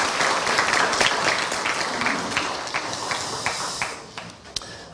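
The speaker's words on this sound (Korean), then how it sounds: "우리 감사의 박수, 격려의 박수 하겠습니다." Thankful applause from a university chapel audience for the choir and orchestra, loud and dense clapping at first, then thinning into scattered individual claps that fade out.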